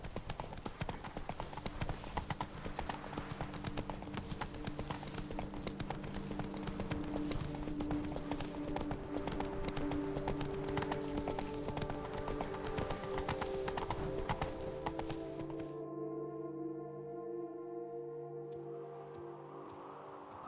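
A horse's hooves clip-clop steadily in The Witcher 3: Wild Hunt, continuous and fairly close under a musical score, then the hoofbeats stop and the music carries on alone.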